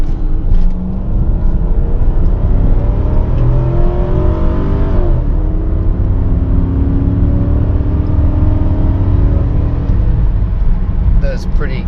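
A 1998 Lincoln Mark VIII pulls hard uphill from a standstill, its engine note climbing steadily through the revs in a loud, continuous in-cabin roar that runs the full length without a break.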